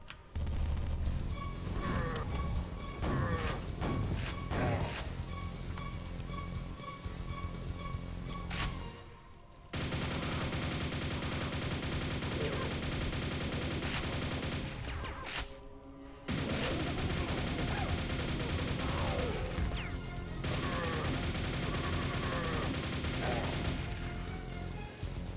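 Rockets and grenades exploding in a video game, a run of loud booms and crashing bursts packed closely together, broken by two short near-silent gaps.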